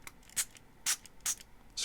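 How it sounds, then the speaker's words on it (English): A spray bottle mists water onto an Apple Watch Series 7 screen in four quick, evenly spaced hissing pumps, close and crisp. "So go ahead and spray this down."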